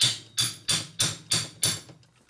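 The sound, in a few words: hammer torquing base nuts on 1965 Harley panhead motor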